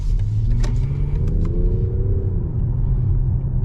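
A 2025 BMW 750e xDrive plug-in hybrid large luxury sedan in sport mode, its engine a steady low rumble heard from inside the well-insulated cabin, with a faint rising tone midway.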